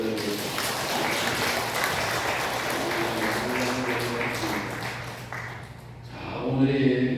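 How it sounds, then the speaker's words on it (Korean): A Korean church congregation claps in praise during a Sunday worship service, a moderate, sustained patter of many hands that thins out near the end as a voice begins to speak. "하나님께 감사와 찬송과 영광의 박수를 올려드립니다."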